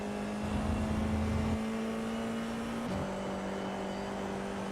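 Race car engine on a low-fuel, worn-tyre qualifying lap in iRacing: a steady, moderately loud drone holding one pitch, with a brief drop and shift near the end as the car changes gear.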